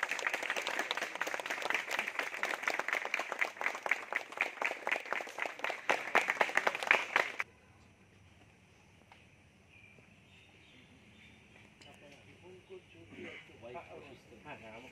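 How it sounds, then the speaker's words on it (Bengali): An audience of students claps at the inauguration of a newly installed composite ceramic membrane-based groundwater system, a loud, busy burst of many hands that cuts off abruptly halfway, leaving quiet room tone and faint distant voices. "সবাই হাততালি দেবে।"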